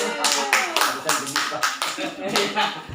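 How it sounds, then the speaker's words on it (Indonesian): A small group claps in uneven bursts for Pak Sargono at a school gathering, the individual hand claps distinct and close, mixed with some chatter. "tepuk tangan dong buat Pak Sargono dong"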